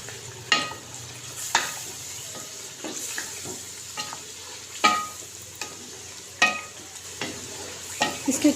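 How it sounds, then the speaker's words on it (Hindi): Chopped green chilies fry in a pan for a bitter gourd and meat curry, with a steady soft sizzle broken by a series of sharp scraping clatters as a spoon stirs them every second or so. "इनको मैंने काट के बारीक बारीक सा ये हम काट डाल देंगे इसके अंदर और इसको हम अच्छे से भूनेंगे"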